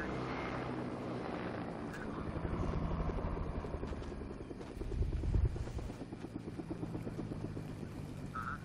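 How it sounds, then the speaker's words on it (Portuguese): A helicopter in the Fortnite video game, a steady distant rotor drone with a low swell near the end, heard alone without talk. "Ó, tem um helicóptero lá."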